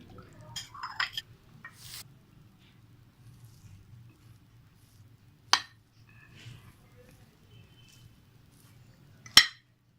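A metal spoon clinks against a bowl while mixing soaked boondi, with soft wet stirring early on and two sharp, close clinks standing out later amid near quiet.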